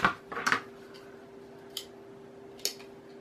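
Scissors snip through fabric scraps during a tote bag sewing project, a few short close crisp cuts spaced apart with quiet gaps between them.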